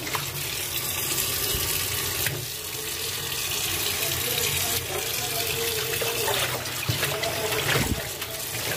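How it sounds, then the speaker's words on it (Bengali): Tap water runs steadily over rohu fish being washed in a sink, a continuous close rush with splashes and handling knocks throughout. "রুই মাছ ধোয়া হয়ে গেল"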